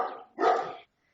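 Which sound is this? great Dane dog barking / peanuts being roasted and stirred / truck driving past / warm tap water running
great Dane dog barking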